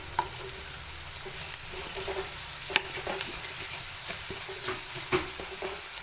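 Ginger and garlic sauté with salt in a pan, a steady close sizzle broken by occasional clicks and scrapes of a stirring spoon.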